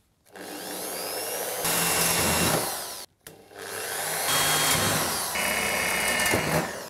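A power drill whines through two bursts of drilling holes in a PowerMac G4 computer case, rising in pitch as it bites, with a short pause between them; close and loud.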